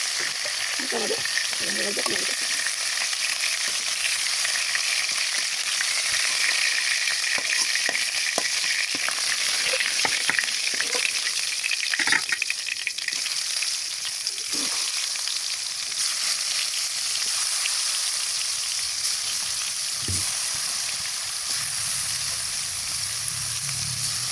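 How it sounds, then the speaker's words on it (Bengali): Meat and vegetables frying in hot oil in a wok, a continuous loud hiss with occasional clinks and spatula scrapes, steady throughout with a short bubbling burst near the end. "এভাবে আমরা সবজি মাংস ভেজে নিই"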